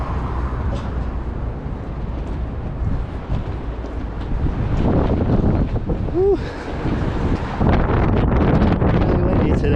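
Strong gusting wind on a Chicago street buffets the microphone with a loud continuous rumble, while a person lets out a brief whoop partway through.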